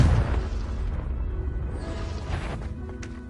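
A Confringo spell explosion in Hogwarts Legacy, a deep rumbling boom that stays heavy and sustained before slowly fading.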